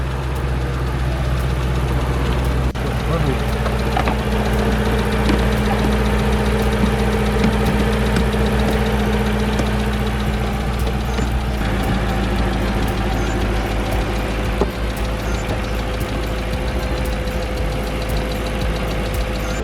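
A 2003 Audi RS6 engine idles steadily while warming up, a close, continuous mechanical rumble with a faint knocking pulse and no voices over it.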